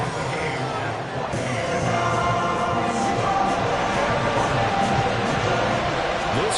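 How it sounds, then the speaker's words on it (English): Football stadium crowd roaring after a fourth-quarter comeback ties the game, a loud sustained cheer with whoops and yells, with a commentator's voice faintly over it. "This crowd alive again."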